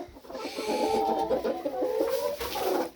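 A rooster on a Polish backyard poultry farm clucks and chatters in a dense, continuous run of calls for about three seconds, loud and close, with no talk over it.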